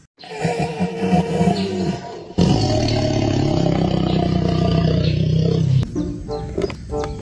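A tiger roars loudly at a zoo, a long rumbling roar that swells and holds, then breaks off near the end into lighter clatter.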